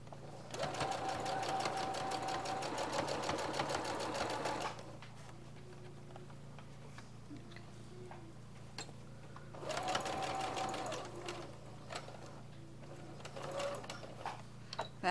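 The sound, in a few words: sewing machine stitching fabric for Christmas crafts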